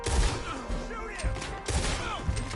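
Rapid gunfire in a Red Dead Redemption shootout, several heavy shots and thuds spaced through the clip, loud and close, with a character's voice shouting amid the firing.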